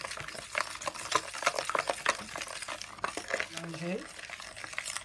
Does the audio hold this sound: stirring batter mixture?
yes